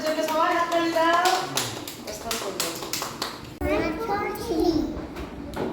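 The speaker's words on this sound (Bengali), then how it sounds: "বাস সুরজের জন্য সবাই হাততালি দাও।" Children in a classroom clap for a classmate, a quick scattered round of claps mixed with children's voices and an adult speaking over them.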